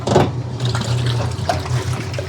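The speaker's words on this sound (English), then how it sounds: "I'm gonna pull that out and the agitator will kick on" A 65-year-old washing machine agitator churns water in the tub, giving a steady low mechanical hum with sloshing and splashing liquid throughout, close and moderately loud.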